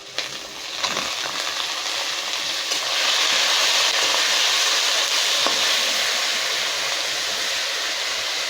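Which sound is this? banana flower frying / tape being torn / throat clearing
banana flower frying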